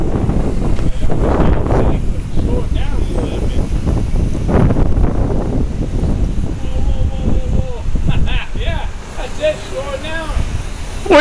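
Strong outdoor wind buffets the microphone throughout on a blustery day while a V929 remote-control model is flown, a constant loud low rumble under excited talk from people nearby.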